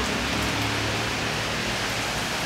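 Rain falls steadily outdoors as a dense, even hiss of drops on surfaces, continuous and fairly close, with no voices.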